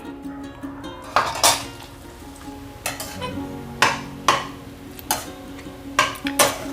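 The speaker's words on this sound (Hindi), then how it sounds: "अब हम इसे घी में भून लेते हैं।" Grated sweet potato roasts in ghee in a pan over low heat, with a spoon periodically clanking and scraping against the metal, sharp close knocks spaced over faint background noise.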